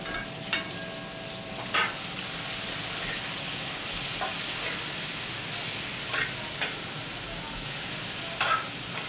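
Pork sizzling steadily in a pan, a continuous close hiss of frying broken by a few sharp scrapes and clanks as it is stirred at irregular intervals.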